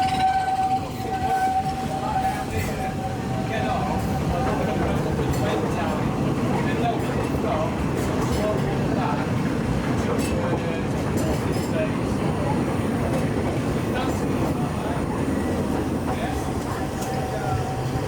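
A continuous rumbling, rattling mine train roller coaster, Big Thunder Mountain at Walt Disney World's Magic Kingdom, rolls along its track, steady and moderately loud, with faint tones and distant voices mixed in.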